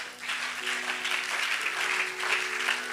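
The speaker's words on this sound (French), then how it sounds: "Acclame pour Jésus" Church congregation applauding for Jesus during a sermon, a dense, sustained wash of clapping from many hands that swells and holds for the whole stretch.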